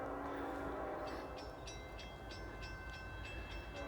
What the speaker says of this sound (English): Got a northbound train coming right now.